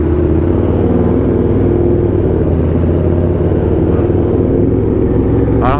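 A loud KTM Super Duke motorcycle engine rumbles steadily up close in an enclosed parking area, droning at a constant idle-to-rev throb throughout.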